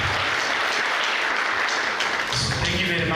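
An audience at a public lecture on Kenyan government policy claps in a sustained burst of applause that fills the room, with voices talking underneath.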